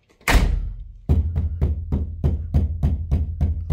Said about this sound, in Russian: А дверь у нас вообще погремушка